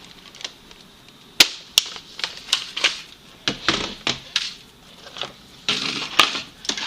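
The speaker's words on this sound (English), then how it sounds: "Now let's pop out this magazine and load up some ammo." A Nerf Rival Zeus blaster has its magazine pulled out and foam balls pushed in, giving a series of sharp plastic clicks and snaps at an irregular rhythm, close by and fairly loud, with no talking.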